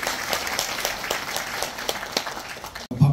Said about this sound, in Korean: 좋은 말씀 해주신 도당위원장님께 다시 한번 큰 박수 부탁드리겠습니다.